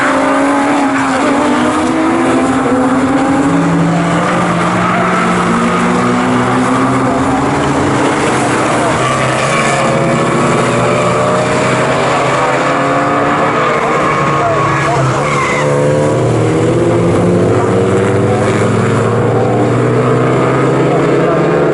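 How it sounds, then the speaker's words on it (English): Porsche race cars in a trophy race at Snetterton circuit, loud engines howling and shifting pitch as several cars run down the end of the straight, under a commentator talking. "Cars are getting to the end of the straight."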